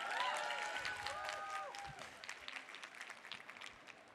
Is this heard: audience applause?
yes